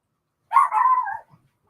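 A dog gives one short burst of barking and whining as its owner arrives home, close and fairly loud, then falls silent.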